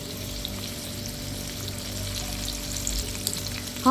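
Boneless chicken karahi frying in a pan, a steady close sizzle with faint stirring movements, alone without voices.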